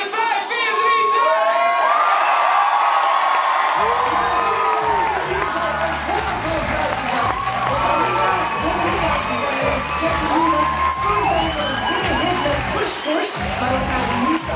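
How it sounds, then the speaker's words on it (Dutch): A TV studio audience for a Flemish youth music show claps, cheers and shouts loudly and continuously, with whoops rising above a dense crowd roar throughout. "Oké, groot applaus in 5, 4, 3, 2."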